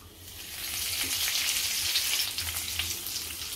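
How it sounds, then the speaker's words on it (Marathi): Spices poured into hot oil for a phodni tempering while making pithla, producing a close, steady sizzle that swells after the first half second and holds. "आता फोडणी करते मी। सगळे फोडणीचे पदार्थ घालूया आपण।"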